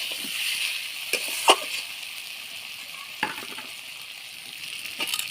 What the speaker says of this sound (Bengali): আর এই শিম বিচি দিয়ে দিচ্ছি, দিয়ে ভালো করে কষবো।